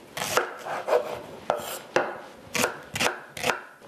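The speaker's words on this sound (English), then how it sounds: "And now we can chop up the onion." A knife chops through an onion on a cutting board with about ten sharp, close knocks at an uneven pace, each one crisp against near silence.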